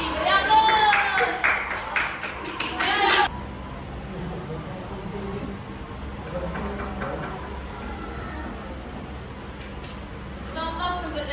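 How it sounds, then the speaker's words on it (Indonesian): Students clapping in an Indonesian classroom lesson, a dense burst of applause for about three seconds, then quieter room sound and a short second round of claps at the end. "Beri aplaus."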